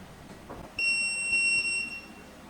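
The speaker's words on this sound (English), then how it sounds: "1 long beep sound will be heard if successful added" A smart video doorbell keypad gives one long electronic beep, a clear steady tone that lasts over a second against a quiet background.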